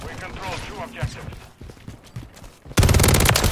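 Shotgun fire in the video game Call of Duty: Modern Warfare 3: a voice speaks first, then a loud, dense burst of rapid shots fills the final second.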